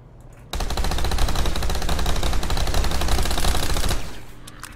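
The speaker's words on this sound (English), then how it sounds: "I'm going to do the hip fire version" A machine gun fired from the hip in one long, loud, continuous burst of rapid shots lasting several seconds, close up, before stopping abruptly.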